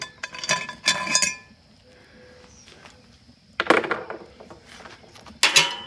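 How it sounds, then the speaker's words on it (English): A lid set onto a pot of cheese grits cooking on an outdoor rocket stove gives two clusters of sharp metallic clinks, with a softer clatter later, close and fairly loud over quiet background. "I'm gonna keep the lid on it"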